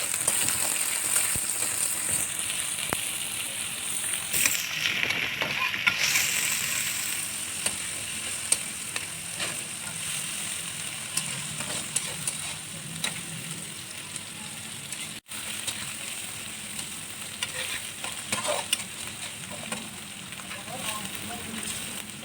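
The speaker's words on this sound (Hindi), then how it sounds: "अब इसमें चिकन डालें। ये अदरक का पेस्ट भी साथ।" Steady loud sizzling as chicken and ginger paste hit a hot pan for chicken biryani, with stirring scrapes and crackling throughout.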